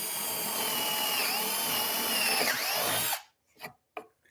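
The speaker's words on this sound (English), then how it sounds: "Drill a hole so you have access." A power drill bores a hole into a wooden shop-made pumpkin, running loud and steady for about three seconds, then stops, followed by two or three short, quieter bursts.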